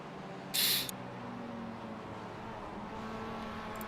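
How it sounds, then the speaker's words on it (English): A Mazda race car engine at a 24-hour endurance race, heard as a steady distant drone, with a brief sharp high-pitched burst early on. "Bit of Mazda action."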